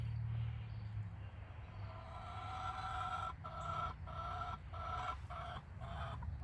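Hens cluck and murmur inside a backyard coop in a half-acre Indiana permaculture food forest garden as one lays an egg; repeated soft clucks grow more regular over a low steady hum and faint insect chirping.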